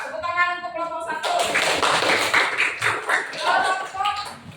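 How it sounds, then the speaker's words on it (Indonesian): A classroom of fifth-grade students clapping together for a group, a short burst of scattered claps that follows a voice and overlaps with chatter. "Tepuk tangan untuk kelompok 1."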